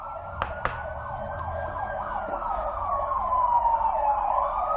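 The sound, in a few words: passing siren outside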